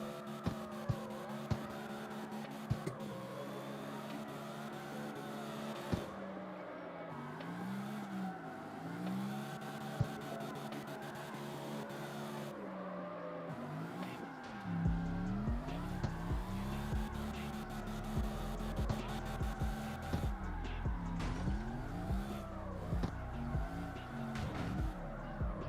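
Drifting cars in the video game CarX Drift at a drift party, engines revving and wavering in pitch with repeated tire squeal through sweeping slides, loud and sustained, growing heavier in the second half.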